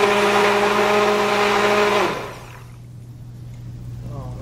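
Blender whirring at steady high speed as it mixes liquid soap batter for column-pour soap, loud and continuous, then switching off abruptly about halfway, leaving low room hum.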